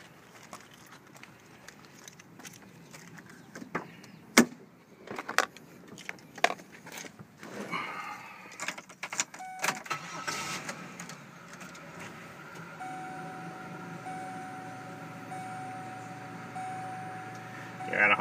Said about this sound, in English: At this point we are going to start the car up. We'll let you listen to it run.